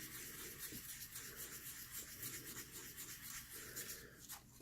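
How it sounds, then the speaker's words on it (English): Soft, steady rubbing and scratching strokes of wet sanding on a polymer clay cabochon repeat in a quick back-and-forth rhythm, quiet and close, with no voices. "We're going to keep sanding."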